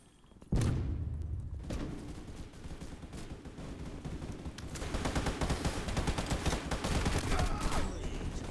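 Gunshots in the Roblox game Bomb Line start with a sharp, loud crack, then build into dense, rapid volleys of automatic fire that grow heavier and keep going to the end.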